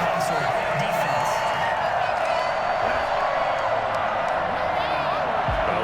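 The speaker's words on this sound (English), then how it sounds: "this crowd does not like that call" A stadium crowd in the Madden 21 football video game reacts to a roughing-the-passer penalty with a steady, loud roar and scattered boos and whoops, continuous for several seconds.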